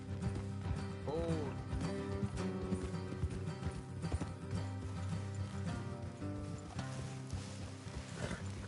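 Steady clip-clop of horse hooves trotting along in Red Dead Redemption 2 on PS5, with a rider's voice talking over the rhythm and a busy game backdrop beneath.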